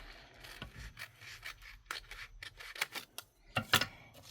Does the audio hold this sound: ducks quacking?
no